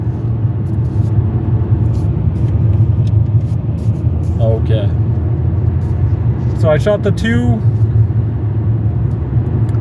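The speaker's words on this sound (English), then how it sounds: "the wind is pretty hard. My car's kind of feels like it's shaking a little." Car interior on a long drive in strong wind, the car shaking a little: a steady low road and engine rumble fills the cabin throughout while someone talks over it.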